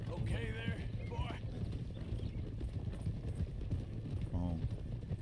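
Hooves clip-clop at a steady walking rhythm from a horse ridden into Old Town in Red Dead Redemption 2, under a low game ambience, with a couple of short tonal game sounds layered over the hoofbeats.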